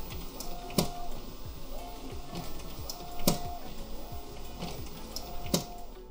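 A sublimation printer runs through a print job, giving a steady mechanical whir broken by repeated sharp clicks and carriage movements at a fairly even rhythm, moderately close with no voices.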